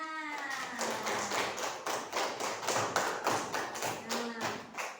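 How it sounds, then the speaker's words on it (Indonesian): A classroom of children claps hands together in a rhythmic, patterned sequence, sharp repeated slaps grouped in bursts, fairly close and lively, with faint voices mixed in at the start. "Tepuk tangan."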